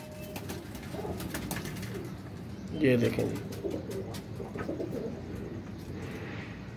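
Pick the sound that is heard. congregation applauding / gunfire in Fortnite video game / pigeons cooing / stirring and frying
pigeons cooing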